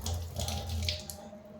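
Water running steadily from a kitchen tap while preparing black coffee, a close, constant splashing stream that stays level and then trails off near the end, with no talk.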